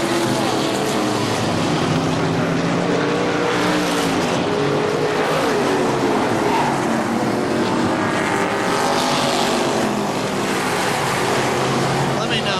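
Stock race cars roar continuously around KilKare Speedway, loud and close, with engine pitch rising and falling as cars pass, some tire noise mixed in, and an announcer talking over the racket.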